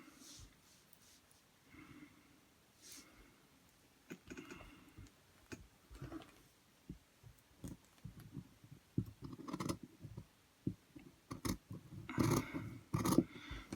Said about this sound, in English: get a piece of the material from that side like that, lay it on and use it to cut the same angle